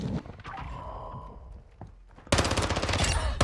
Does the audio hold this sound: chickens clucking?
no